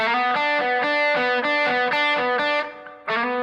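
Distorted electric guitar slowly picking single notes in repeated three-note groups, a steady, moderate pattern, each note ringing briefly before the next, loud with no voices.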